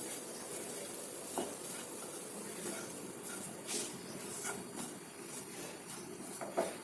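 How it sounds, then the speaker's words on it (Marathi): Khoya being stirred into cooked grated carrots for gajar halwa, a soft steady scraping and gentle sizzle in a pan with a few louder clinks of the spoon, close and alone. "आता याच्यात आपण खवा टाकून घेऊया याला पण छान गाजरमध्ये एकजीव करून घेऊया"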